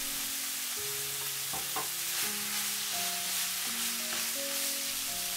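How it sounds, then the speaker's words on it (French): Mushrooms are stirred into a sizzling pork-and-vegetable popiah filling in a frying pan, with a steady fry hiss and a few scraping spatula strokes, close and without talk. "Puis j'incorpore les champignons et je remue brièvement."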